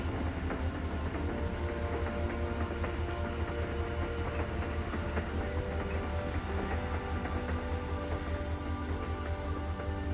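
A moving train rumbles steadily and loudly in The Walking Dead Telltale video game, a continuous low roar with clattering wheels across the whole stretch and no voices.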